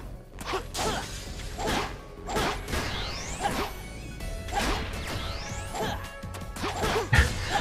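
Glass panes smash in Sonic the Hedgehog (2006) as the character breaks through them: a series of sharp crashes and whooshes, loud and in quick succession, without talk.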